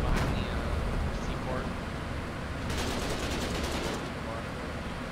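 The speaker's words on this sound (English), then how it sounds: "hop on the LMG for a minute" Light machine gun fire from the Foxhole war game, a burst of rapid repeated shots in the middle of the stretch over steady battlefield noise, with voices talking.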